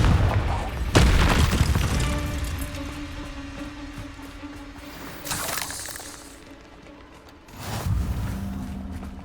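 A Confringo blasting spell goes off in the video game Hogwarts Legacy, bursting as loud booms with a shattering crackle, followed by a second blast a few seconds later.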